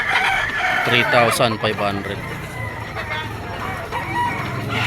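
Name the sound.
sweater yellow-legged gamefowl rooster crowing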